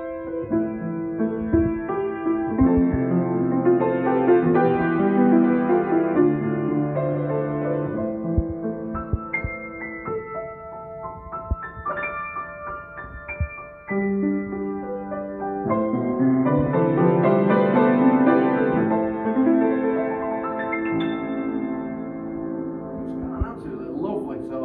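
An Essex EGP-155C upright piano in ebonised polish with brass pedals is played in a showroom, a flowing passage of chords and runs that pauses midway, then resumes, close and full.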